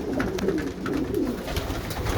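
Pigeons kept in a backyard loft coo in low, throaty, overlapping murmurs close by, a steady soft rumble with a few wing or foot scuffles and no talking.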